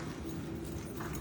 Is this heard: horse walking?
yes